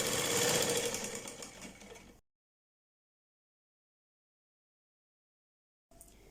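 Sewing machine stitching the side seam of ladies' trousers, a loud rapid mechanical whir for about two seconds that then stops, with a brief restart at the very end.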